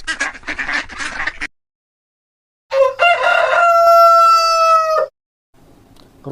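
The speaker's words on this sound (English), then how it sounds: "Rooster." A rooster crows once in a drawn-out, strained call. A brief, different bird-like sound comes before it, and quiet gaps surround both.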